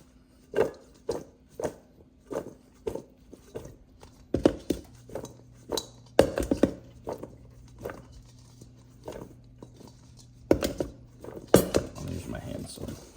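Fish being mixed with cornstarch in a bowl by hand, heard as a steady series of soft, wet thumps and clicks at a regular pace, growing busier and denser toward the end.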